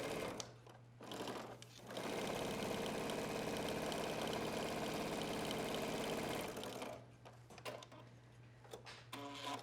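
A sewing machine stitching rows on a denim shorts pocket: a few short bursts, then a steady fast whirring run of several seconds, then more brief stop-start stitching, close and clear.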